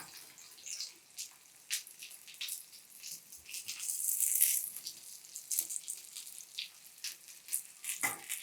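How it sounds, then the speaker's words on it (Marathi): Spiny gourd slices coated in semolina frying in a pan, giving a quiet, steady sizzle and crackle with small spits and pops throughout, close and fairly faint, with no voices. "आता हे उलटल्यावर देखील एक साधारण 2 मिनिटं आणखी फ्राय करून घ्यायचं"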